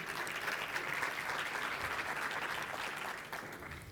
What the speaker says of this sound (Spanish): Un fuerte aplauso para él y bienvenido.